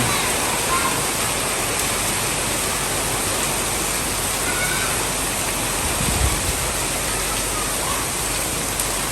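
A downpour in Banteay Meanchey province, Cambodia, hisses steadily and loudly throughout, a thick continuous wash of falling rain with a brief low thump partway through.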